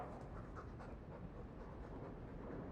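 A Mabari hound, a war dog in a fantasy role-playing game, pants steadily and softly in fast, even breaths that continue without a break.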